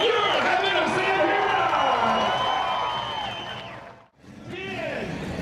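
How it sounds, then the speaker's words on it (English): Crowd at a monster truck show in Muskogee, Oklahoma cheers and whoops loudly for the drivers, a dense roar with scattered clapping that fades briefly near the end before swelling again. "Give them a big round of applause."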